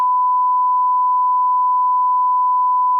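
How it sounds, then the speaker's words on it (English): A steady censor beep: one pure, unbroken tone that holds at the same loudness for about three seconds, alone, with no voices. "We'll have to beep that out."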